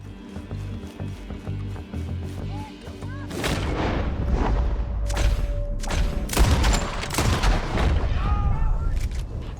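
Bursts of rapid gunfire and heavy booms from the video game Red Dead Redemption 2 erupt after a quieter opening, with repeated loud shots and rumbling blasts continuing to the end.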